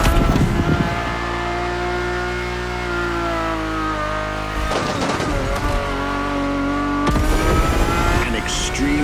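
A Ferrari supercar with a carbon fiber monocoque chassis revs hard in a racing game, the engine's loud harmonic drone holding steady, then dropping away and surging back twice as the revs climb again.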